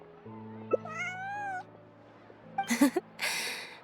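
A cat in Genshin Impact meows, first a rising and falling drawn-out meow, then a short burst of chirpy, breathy cat sounds, close and clear over soft game music.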